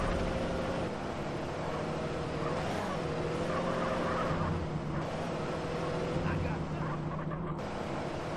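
Car driving in GTA San Andreas, a continuous engine drone with steady road rumble that holds level throughout, while a voice talks over it.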